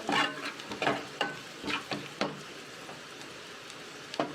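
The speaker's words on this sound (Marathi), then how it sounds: "थोडी म्हणजे पाव चमचा धना पावडर म्हणजे थोडंफार परतवून घ्यायचं" Spices with a quarter spoon of coriander powder sautéed in a pan for a prawn dish, with a soft background sizzle and repeated spatula scrapes at a steady, unhurried rhythm, close by and with no talking.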